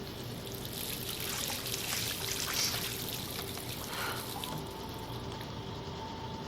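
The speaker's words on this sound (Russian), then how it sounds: "давайте-ка используем кран" A tap runs in the video game Life Is Strange, giving a steady pouring and trickling stream of water that continues evenly throughout at moderate loudness.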